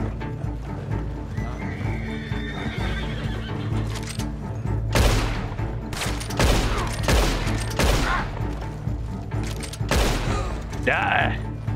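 Carbine gunfire in the Western video game Red Dead Online: several loud, close shots spaced a second or two apart, mixed with horse whinnies and clopping hooves, and no talk.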